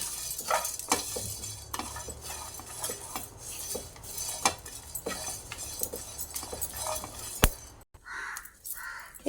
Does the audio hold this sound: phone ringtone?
no